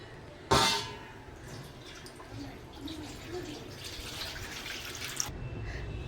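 A sudden splash, then a steady stream of water, two glasses' worth, pouring into a metal pan while cooking mutton. The rush brightens toward the end before stopping abruptly.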